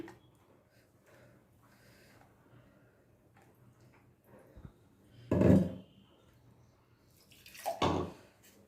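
Blended seedless grape juice, thinned with a little water, is strained through a sieve, giving two short, splashy bursts of pouring liquid against an otherwise quiet kitchen background.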